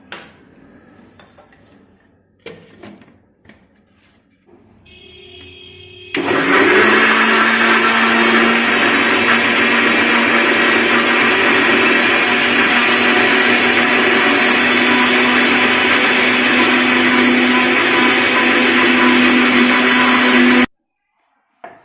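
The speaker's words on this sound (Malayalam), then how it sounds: "ഇനി ഇത് മിക്സിയിലിട്ട് നന്നായി ഒന്ന് അരച്ചെടുക്കാം." An electric mixer grinder blends a banana smoothie, starting abruptly after a few quiet seconds of small kitchen sounds and then running loud and steady with a constant motor whine for about fifteen seconds before cutting off.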